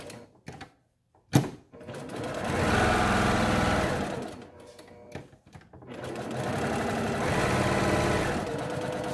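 A sewing machine stitches around the edge of a fabric 3D box mask in short runs, a steady mechanical whirring that starts and stops with brief pauses between bursts, close and fairly loud.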